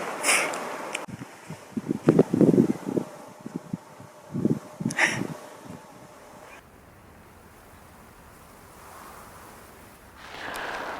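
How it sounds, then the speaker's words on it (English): Wind gusting across a meadow during an archery elk hunt, buffeting the microphone in uneven bursts, with close breathing and sniffing sounds early on before it eases into a softer steady rush. "The wind has been terrible."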